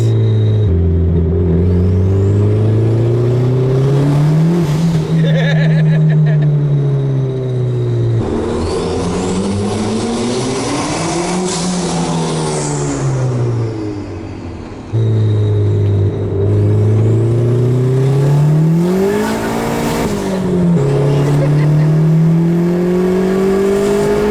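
A loud 1995 Honda Civic EJ coupe with a boosted B20B engine swap revs up and down repeatedly, the pitch rising and falling in long sweeps with a rumbling exhaust, no talking.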